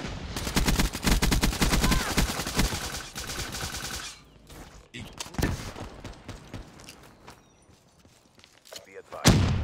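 Sentry gun firing on Nuketown in Black Ops 3, a loud rapid stream of automatic shots for about four seconds, then scattered bursts, thuds and quieter gunfire with a voice heard briefly.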